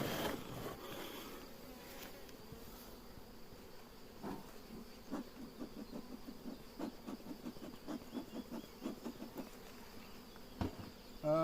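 Dense swarm of honeybees buzzing around large hives at an acacia honey harvest, a steady close insect drone with bees also crawling on the ground, no talking.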